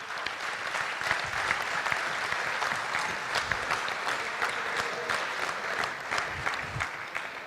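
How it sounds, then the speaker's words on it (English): Audience at a football banquet applauding, dense sustained clapping from a large room crowd lasting several seconds at steady strength. "let's give those ladies a round of applause."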